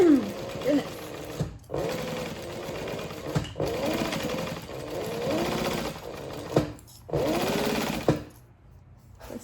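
A sewing machine stitches a backpack seam in several steady runs with short pauses between them, backstitching at the seams, with a voice talking faintly over the motor's hum.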